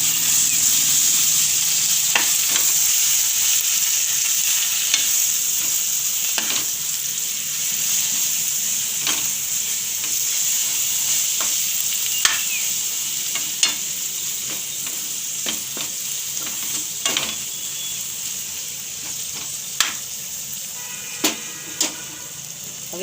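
Drumstick (moringa) leaves frying in a pan with cumin and red chilli, a steady loud sizzle running throughout with scattered sharp clicks and scrapes of a spoon stirring them.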